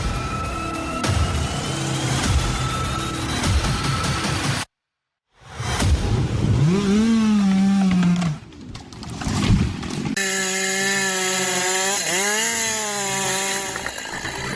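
A very long chainsaw cuts into a tree, its engine droning loud and steady, dropping out for a moment, then surging again with rising and falling pitch as the bar works through the wood.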